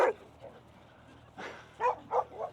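Dogs at a farm barking and yipping close by in short excited bursts, a few quick barks in a row after a brief pause, with a person's voice speaking around them.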